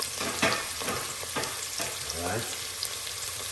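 Carrot and garlic sizzle steadily in a hot pot for a Christmas cabbage stir-fry, with a constant close crackle and a few stirring scrapes, while a voice speaks briefly over it.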